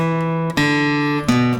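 An acoustic guitar plays a measure of a song in a steady quarter-note pulse, two or three ringing chord changes heard up close and clearly with no voice present.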